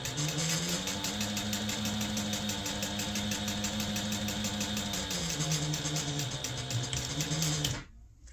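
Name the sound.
sewing machine sewing a notepad holder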